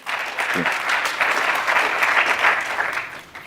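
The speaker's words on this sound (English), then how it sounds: "let's start off with a round of applause to welcome my guests and panelists today" Audience applause welcoming the panelists at a directors' event on South Africa's 30 years of democracy: a full, steady burst of clapping that holds for the whole stretch, with a brief voice audible early on.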